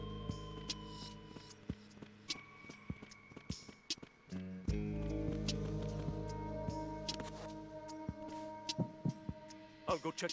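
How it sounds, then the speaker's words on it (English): In Metal Gear Solid 2, the AP sensor in the inventory pulses with a steady synthetic heartbeat, regular low thumps under a humming game soundtrack with brief voice lines. "That heartbeat is the AP sensor in my inventory."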